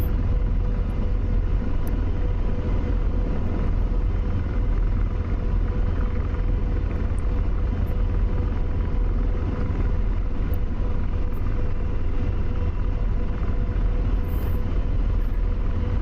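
An AH-64 Apache helicopter flying in the DCS flight simulator, giving a continuous heavy rotor and engine rumble that holds steady and loud throughout.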